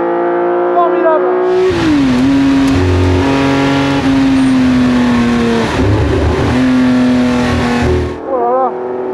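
Loud, close Porsche 910 race car engine revving with a steady high whine that swells and dips, starting and stopping abruptly; a voice speaks briefly afterward.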